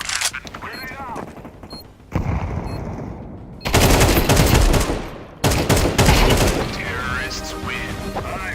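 Counter Strike 2 gunfire on the Dust 2 map: dense automatic bursts and crackling shots, loud and close, come in waves with short lulls between them, with game voices calling out under the shooting.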